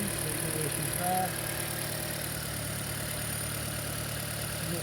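A Toyota Prius hybrid engine runs at a steady idle, a continuous even hum heard up close under the open bonnet with no other sounds over it.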